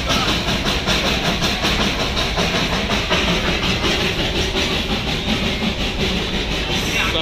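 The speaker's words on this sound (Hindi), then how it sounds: "और अब इस खूबसूरत लूप से ये ट्रेन आगे बढ़ रही है।" A train rolls along a loop on the line between Darjeeling and Ghum, giving a steady, close, loud rumble and rattle of cars that fills the whole stretch without a break.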